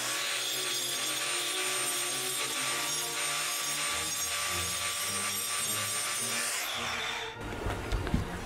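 A cut glass bottle edge is rubbed and ground to smooth it, a steady gritty scraping that runs close and continuous for several seconds, then stops abruptly.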